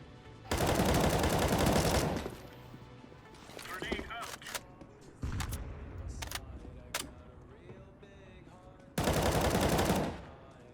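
Rapid automatic gunfire sprays in CS:GO competitive play, sounding as two loud sustained bursts at the start and end with scattered single shots between, while a player talks quietly.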